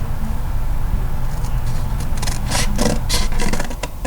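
A shadow box piece is cut at an angle. A quiet stretch gives way to a run of close, rough rasping strokes in the second half, each a short burst of scraping.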